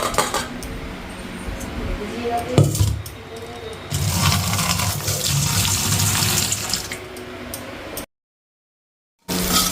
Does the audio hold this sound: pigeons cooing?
no